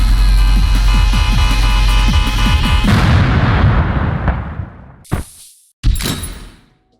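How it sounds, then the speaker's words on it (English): Blue shell weapon from the Mario Kart game series: heavy, dense booming impacts with a low rumbling throb that swells, then fades into a whooshing decay, followed by two short sharp bursts near the end. "So that was the extremely irritating blue shell from the Mario Kart series."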